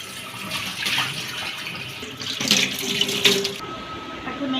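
Tap water runs and splashes while a large plastic storage box is rinsed, a continuous hissing stream with shifting splashes, close and moderately loud, no talk.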